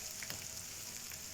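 Finely chopped green chillies frying with translucent onions in a pan for chicken pockets, a steady soft sizzle up close.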